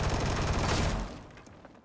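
Loud, rapid video-game gunfire blasts through a wall in a dense burst that cuts off after about a second and trails into a fading rattle of debris.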